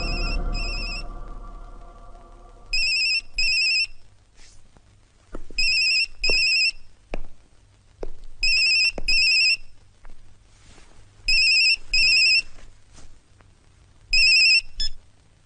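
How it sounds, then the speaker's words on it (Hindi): A mobile phone rings during an outgoing call, sounding a repeating electronic ringtone in evenly spaced double bursts over about fifteen seconds, clear and fairly close, with no one speaking. "यशवंत को मोबाइल पे फोन लगाओ"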